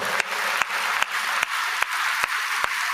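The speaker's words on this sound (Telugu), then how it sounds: "ఇది నమ్మితే కొట్టు చప్పట్లు కొట్టి దేవుని మహిమపరచు" A church congregation claps together in a dense, steady wash of applause, loud and continuous, with a few sharper beats standing out.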